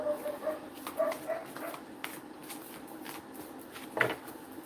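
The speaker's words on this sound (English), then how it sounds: "I really hope you guys are not hearing my dog bark too much" A dog barks a few times indoors, short sharp yaps scattered across a few seconds, with a louder single bark near the end, set against a quiet room background.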